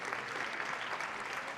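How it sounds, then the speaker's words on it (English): Brief, dense applause from a summit audience greets startup presentations, an even wash of many hands clapping at moderate volume. "Wow, round of applause"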